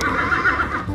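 A toy zebra lets out a horse-like whinny, a continuous wavering neigh that is loud and close, with no voices over it.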